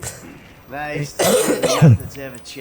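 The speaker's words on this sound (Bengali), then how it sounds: "কিছু মনে করবেন না কাশি দিয়ে ফেলাইছিলাম" A person coughs a couple of times between bits of talking over GTA V gameplay, the cough harsh and close.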